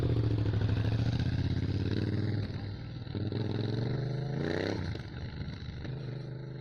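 Yamaha MT-07 motorcycle pulling away, its engine note steady and fairly loud up close, then shifting and rising briefly near the end as it moves off, with no talking.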